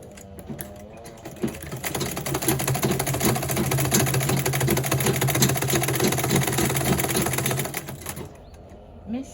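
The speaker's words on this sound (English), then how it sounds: "Then I'll sew it round the edges like this, round the edges." A sewing machine stitches along the edges of cargo pants in one continuous, rapid, rattling run of about seven seconds, close and fairly quiet, starting and stopping cleanly.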